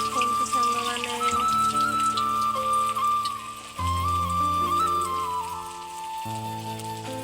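Bora fritters fry in hot oil, giving a steady bubbling sizzle like rain on a surface, heard throughout beneath loud background music.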